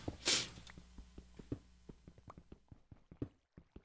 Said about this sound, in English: Weird sneeze alert.